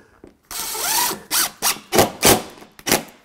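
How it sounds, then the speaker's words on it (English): A drill driving a screw into drywall to fix a nail pop, with several short loud whirring bursts in quick succession after an initial longer run, close and with no talk. "drive that screw till it's just dimpled a little bit."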